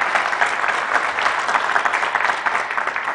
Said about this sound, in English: let me invite everyone to give our panelists a round of applause